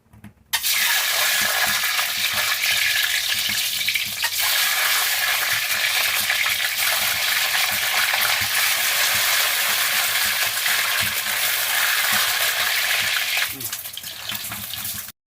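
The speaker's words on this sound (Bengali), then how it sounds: "এবার গাইস ডিমগুলো ভেজে নেবো" Poultry eggs frying in a pan give a loud, steady, dense sizzle that starts abruptly and holds throughout, easing slightly near the end.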